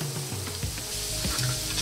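Thinly sliced ginger sizzles in olive oil in a frying pan over medium-high heat, a steady, dense crackling hiss with occasional stirring scrapes, close and without talk.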